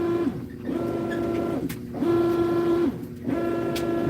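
A faulty washing machine with poor build quality whines and grinds like a broken printer, its droning tone looping in repeated cycles of about one and a half seconds, fairly loud and steady with no talking.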